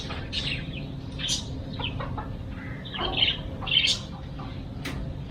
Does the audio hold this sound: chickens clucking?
yes